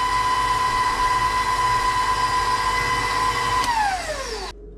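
Electric mixer whirring steadily as vanilla is blended into chocolate chip cookie batter, a loud sustained motor whine that winds down near the end as it is switched off.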